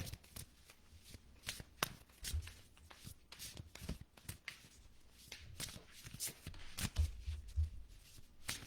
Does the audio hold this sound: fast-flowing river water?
no